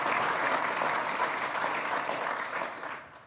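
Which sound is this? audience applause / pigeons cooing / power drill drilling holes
audience applause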